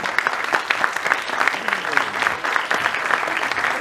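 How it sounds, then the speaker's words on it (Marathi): An audience applauds during a poster launch at the trailer launch of the film 26 November. Steady, dense clapping carries through the whole stretch at moderate volume, with a faint murmur of voices underneath. "टाळ्यांचा प्लीज"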